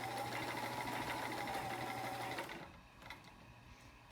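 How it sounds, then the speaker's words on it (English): Vintage Sears Kenmore 158.14300 heavy duty sewing machine stitching at its longest stitch length, a smooth, steady whir close up that runs for about two and a half seconds and then stops, leaving quiet handling clicks. "I'll show you the longest stitch length that this machine will make"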